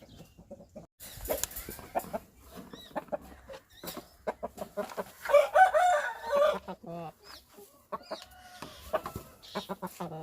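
Chickens cluck and squawk nearby, one bird letting out a louder burst in the middle, with a person talking intermittently.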